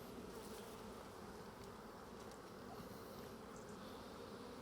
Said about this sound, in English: plenty of bees